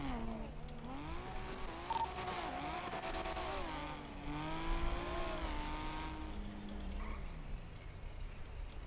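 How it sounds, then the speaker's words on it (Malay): Several cars race and chase one another in the FiveM video game, engines revving and rising and falling in pitch, with occasional tire squeals over continuous driving noise. "Dua kereta kejar kita orang."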